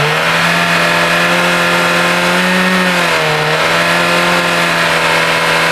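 A BMW S 1000 R motorcycle fitted with an Akrapovic Evolution exhaust is held at about 5,000 RPM, giving a loud, steady, close engine drone whose pitch dips briefly midway.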